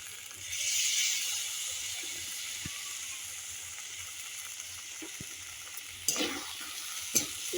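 Chicken pieces sizzle in a pan as tomato sauce and soy sauce go in for a patty filling, with a steady frying hiss and a few sharp scraping stirs near the end.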